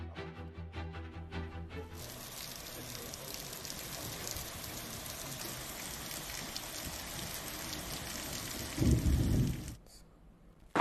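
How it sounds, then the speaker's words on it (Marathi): Heavy monsoon rain in Jalgaon, a steady broadband downpour hissing continuously for most of the clip, with a louder low rumble near the end before it cuts off. "तर तिकडे जळगावात देखील मुसळधार पावसानं दमदार हजेरी लावली।"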